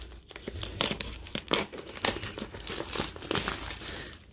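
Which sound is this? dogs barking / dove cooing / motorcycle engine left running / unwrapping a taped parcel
unwrapping a taped parcel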